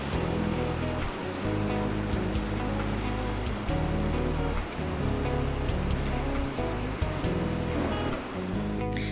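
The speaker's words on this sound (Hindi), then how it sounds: "बिरयानी के चावलों को मैंने 10 मिनट तक उबाल लिया है और अब मैं इनको छलनी में डाल के" Boiled biryani rice poured into a colander, its water rushing and splashing steadily through the strainer in a loud, continuous gush close by.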